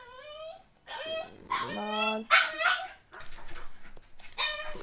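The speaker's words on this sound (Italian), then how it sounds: "scusate il sottofondo, ma il mio cane che piange." A pet dog whimpers and cries in a high, wavering whine, coming in several rising and falling bursts. It is near and loud, and a person talks briefly around it.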